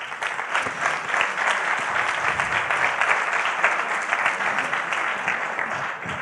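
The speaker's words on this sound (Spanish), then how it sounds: "un gran aplauso para las 4 investigadoras que nos han acompañado" An audience at a science-and-music event claps in a dense, sustained burst of applause, loud and even throughout with no voices standing out.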